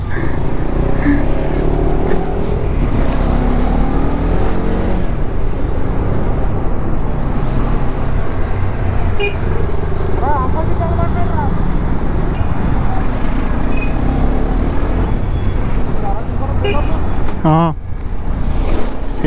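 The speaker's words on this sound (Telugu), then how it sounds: "ఇంకా ట్రాఫిక్ మన కిరణ్ KTM తోలుతున్నాడు." Dense Bengaluru road traffic around a KTM motorcycle: a continuous engine drone and roadway roar with passing vehicles and occasional horn-like tones, a person talking over it.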